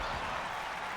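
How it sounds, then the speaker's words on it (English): Crowd applause in a WWE wrestling video game, a brief dense wash of clapping and arena noise that stays loud and even throughout. "Alright, come on, guys, applaud this one."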